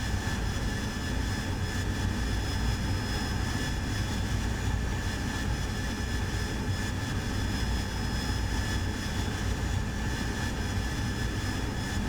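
The engine of an AV-8B Harrier jet in the DCS flight simulator roars in a constant, dense whine and rumble through a landing approach, loud and unchanging throughout with no breaks.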